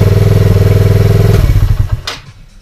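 Sinnis Apache 125 motorcycle engine idling after carburettor tuning, a loud close steady putter that dies down and stops, followed by a brief clatter.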